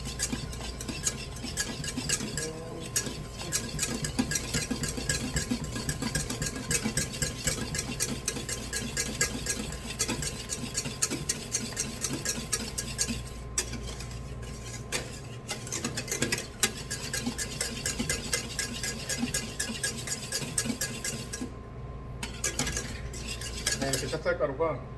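Spoon scraping and stirring thick glutinous rice flour porridge in a pot as it cooks for kimchi, a continuous close rhythm of utensil strokes against the pot with a few brief pauses and no talking.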